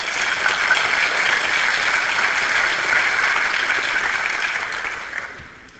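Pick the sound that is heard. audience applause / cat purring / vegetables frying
audience applause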